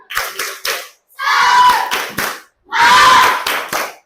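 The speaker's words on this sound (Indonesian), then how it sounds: "Ayo, kita tepuk semangat bareng yuk." Primary school children in a fifth-grade Indonesian class do a rhythmic spirit clap together, loud bursts of group clapping in patterned beats separated by short pauses, with voices chanting along.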